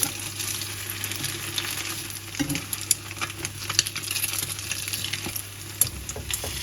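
French toast sizzles steadily in a hot frying pan just after being flipped, a continuous close crackling fry with small pops and scrapes.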